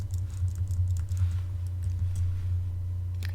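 Text is typed on a computer keyboard, with quick, light key clicks in irregular bursts over a constant low electrical hum. No one speaks.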